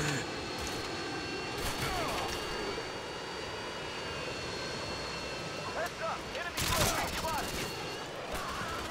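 Modern Warfare 2 gunfire on Xbox One X: bursts of automatic shots and heavy fire over a constant engine-like roar, loudest near the end, with a player talking over it.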